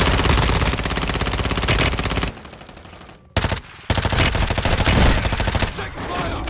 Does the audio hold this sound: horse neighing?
no